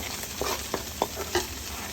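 Okra frying in a pan for a tamarind okra stew, with a steady sizzle and a few soft scrapes as it is stirred, close and alone.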